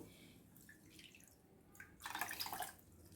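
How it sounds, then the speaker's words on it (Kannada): Water pours into a pan for the sugar syrup of gulab jamun, soft dripping and splashing that builds into a brief, denser pour before tapering off, faint and close. "ಐದು ಕಪ್ಪಷ್ಟು ನಾವು ನೀರು ಹಾಕ್ಕೊಳ್ಳೋಣ"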